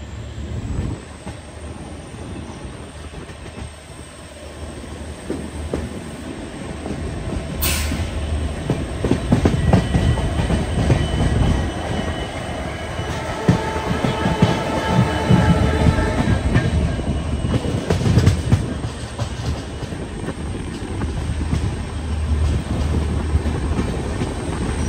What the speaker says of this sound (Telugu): ఇక్కడ నుంచి మన ట్రైన్ అయితే బయలుదేరిపోయింది కదా.